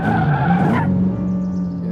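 A car engine idling steadily at close range, with a loud, constant low rumble and a brief rising whine near the start that settles into an even drone.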